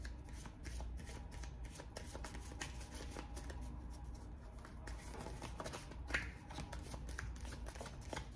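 Romance angel cards being shuffled by hand, a quiet, close riffling and flicking that repeats in quick bursts, with no talk.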